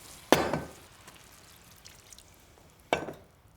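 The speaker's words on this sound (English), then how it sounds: "Now I'm going to add in some cream and milk for our sauce" Cream and milk poured over bacon and onion in a pan, two short splashing sizzles roughly three seconds apart with quiet crackling in between.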